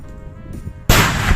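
A sudden loud blast of gunfire in a war setting cuts in after a quieter stretch, the roar sustaining for the rest of the moment.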